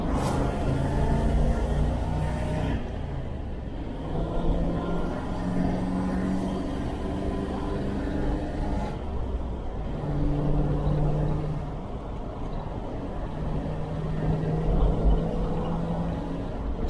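A 1971 Range Rover engine running hard at full throttle, revving up to about 4,000 RPM, a steady loud droning rumble with shifting harmonic tones that rise and dip as the revs change, close and continuous throughout.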